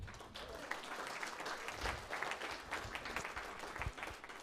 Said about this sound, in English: So round of applause for yourselves.